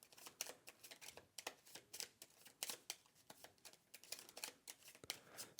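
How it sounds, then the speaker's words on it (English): Dune: Imperium game cards are shuffled by hand in quick bursts of crisp riffling and flicking, close and faint, with no talking. "So I've got to shuffle these."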